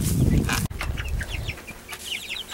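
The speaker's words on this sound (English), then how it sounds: "And the hens." Hens cluck and chirp in short bursts close by, with a sharp bang early on and some rustling underneath.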